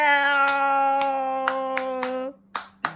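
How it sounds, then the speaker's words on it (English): A child claps their hands in a slow, uneven run of about seven sharp single claps, close by. The first claps sound over a steady sustained tone, and the last two ring out alone after it stops. "Clap for yourself."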